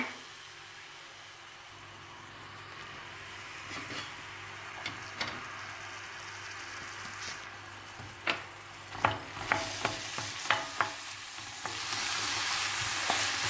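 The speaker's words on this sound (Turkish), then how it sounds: "soğanlarımı böyle 1-2 dakika çevireceğim" Finely chopped onions sizzle in hot oil for ovmaç soup while a utensil scrapes and taps the pot in a run of sharp strokes, the frying growing louder toward the end.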